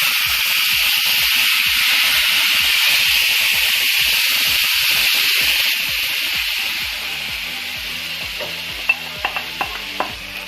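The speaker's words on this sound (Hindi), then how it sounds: "ये देखिए मैंने पूरा इसमें मसाला डाल दिया, तेल में अच्छे से इसको भून चुकी हूँ।" Masala paste frying in about three spoons of hot oil in a pan, a steady loud sizzle with stirring scrapes that softens after several seconds, followed by a few sharp clinks near the end.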